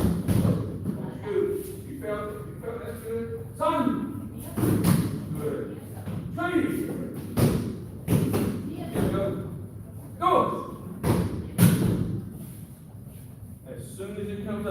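Punches land on boxing pads during an adults' training session, a series of sharp, close thuds in uneven combinations, mixed with a coach's instructions and other speech.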